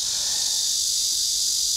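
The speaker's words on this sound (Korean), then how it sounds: "이 매미 소리 들으면서 약간의 힐링을 해보시기 바라고" Cicadas drone in a dense, unbroken high buzz at the end of a hot summer near Unjusa temple in Hwasun, Korea. The sound is steady and fairly loud, with no voices.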